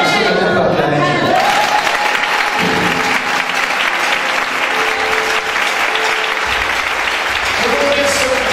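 A church congregation bursts into sustained, dense applause with some cheering, loud and continuous, while a preacher's voice carries over it near the start and end.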